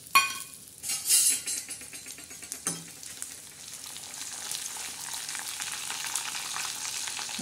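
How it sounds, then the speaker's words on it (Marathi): Prawns frying in a pan, a continuous hissing sizzle with a few louder splutters and clinks early on, then settling into an even crackle. "झिंगे तळून घेणार आहोत."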